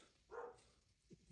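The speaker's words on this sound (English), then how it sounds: "Excuse my dog." A dog gives a single short bark indoors, faint and distant against quiet room tone, followed by a soft rustle.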